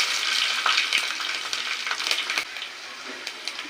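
Onions sizzle in hot oil with curry leaves and dried red chillies, a bright crackling fry broken by a few stirring clicks, loud and close, quieting slightly toward the end, with no voices.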